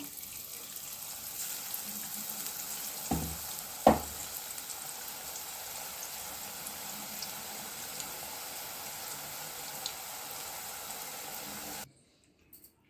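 Boondi, drops of batter for Tirupati laddu, frying in hot oil: a steady close sizzle that runs alone with no voices, broken by a couple of short knocks around the third and fourth seconds, then cutting off near the end.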